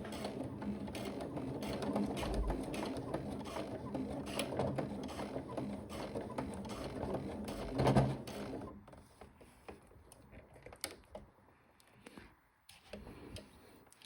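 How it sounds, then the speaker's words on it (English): Sewing machine stitching an elastic waistband onto a jersey skirt, a rapid mechanical rattle for several seconds, then stopping, followed by quieter short bursts and handling noises. "Sew a little forward, gently pulling the fabric behind to help the machine"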